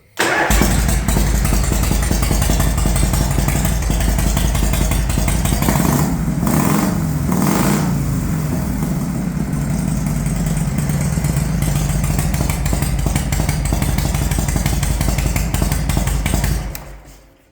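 1976 Harley-Davidson FLH engine running after carburetor adjustment, a loud, close, continuous idle with a brief throttle blip around the middle before the engine shuts off at the end.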